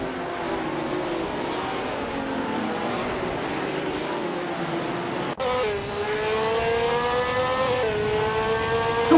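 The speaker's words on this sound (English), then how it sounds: "Wolfslight is racing in a 1971 Brabham BT34 and currently holds 5th place" Engine of a 1971 Brabham BT34 racing at the Hungaroring in a racing video game, a loud, steady high-pitched whine that drops at a gear change and climbs again as it accelerates.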